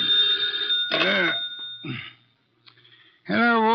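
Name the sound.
telephone bell ringing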